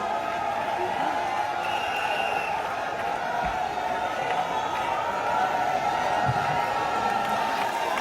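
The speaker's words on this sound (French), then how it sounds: "Sous vos applaudissements, nous continuons à applaudir son Excellence" Audience applause and crowd noise for President Félix Tshisekedi at a gathering of the Congolese diaspora in Belgium, a dense, steady wash of sound filling the whole stretch, with voices mixed in.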